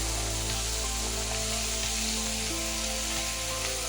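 Capsicum pieces and curry leaves sizzle steadily in a hot pan for a capsicum curry, a continuous close frying hiss with faint crackles and no voices.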